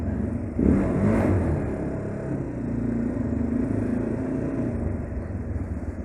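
A motorcycle engine revs up sharply, then settles back into a rough, clattering rumble that carries on steadily to the end.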